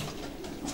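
A small-to-medium racing pigeon hen coos softly in a short, low murmur, close by, with no talk over it.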